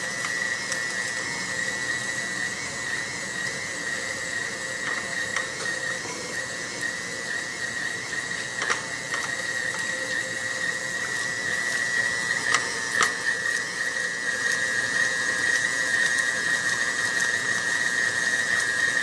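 A stand mixer kneads panettone dough with a steady, high-pitched whining motor tone and a mechanical hum that runs continuously and grows slightly louder toward the end, with occasional faint clicks.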